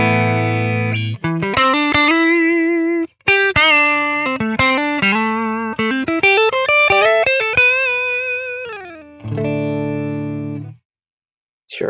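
An electric guitar plays a lively melodic run of single notes and chords through a Quad Cortex doubling pitch-shift effect, carrying a faint shimmering doubled warble, then holds a final chord.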